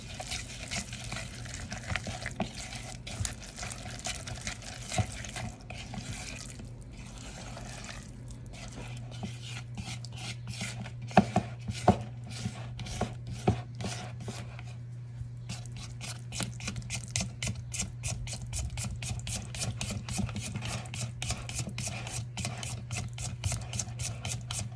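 Corn fritter batter seasoned with Old Bay being stirred in a bowl, a steady wet scraping and sloshing that runs the whole time, with quick clicking strokes picking up partway through and a low hum underneath.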